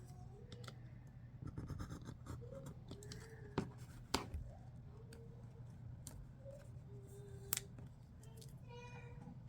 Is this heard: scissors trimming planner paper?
yes